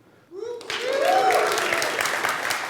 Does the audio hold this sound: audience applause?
yes